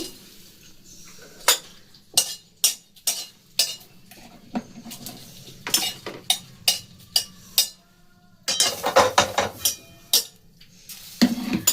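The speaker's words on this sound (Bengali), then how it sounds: "আগে লঙ্কাগুলোকে একটু ভেজে নেব" Two dried red chilies dry-roasting in a pan over a very low flame, with a spatula clinking and scraping against the metal in sharp, irregular close taps over a faint background hum, and a busier flurry of clatter near the end.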